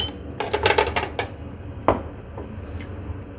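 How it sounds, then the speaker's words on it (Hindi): Whole fennel seeds rattle and patter into a metal frying pan in a quick cluster of bright, close clinks, followed by a single sharper tap and a few faint scattered ticks. "सबसे पहले मैं फ्राई पैन में डालूँगी 1 टीस्पून साबुत सौंफ"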